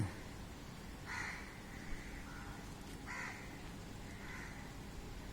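Crows caw in a light early-morning drizzle, three or four harsh calls spaced about a second apart over a steady hiss of rain, moderately near.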